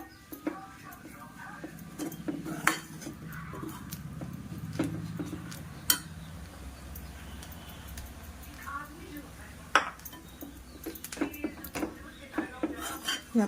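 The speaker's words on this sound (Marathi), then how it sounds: "आता छान कालवत राहायचं जोपर्यंत कांदे बेसन ॲब्झॉर्ब करत नाही तोपर्यंत छान कालवत राहायचं" Gram flour being stirred into onions in a pan for zunka produces scattered scraping and clinking of a spoon against metal, with sharp taps amid soft shuffling, fairly faint beneath someone talking.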